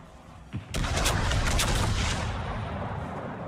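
Naval shell fire from a Napoli cruiser launching high-explosive rounds in World of Warships: a sudden loud boom sets off a dense, sustained roar of gunfire and crackling impacts that slowly fades.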